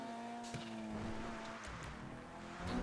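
A car in the video game GTA 5 hums steadily with a low engine drone and some tire noise, a continuous mid-level sound with brief transient bumps and no talking over it.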